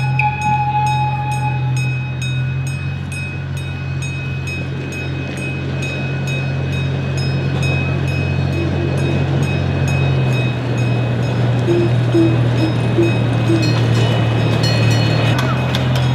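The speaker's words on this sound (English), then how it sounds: "Look, the little train from the amusement park is coming over." A small amusement park train in a city park rumbles past close by, its wheels clattering rhythmically along the track under a steady mechanical drone, with faint voices in the background.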